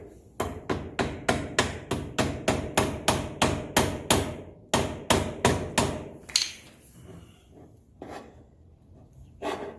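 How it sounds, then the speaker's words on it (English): Mallet tapping a radius rod into place, a quick steady series of about twenty sharp close knocks, then a short pause, scraping, and a few final taps. "Let's give it a little tap with the mallet."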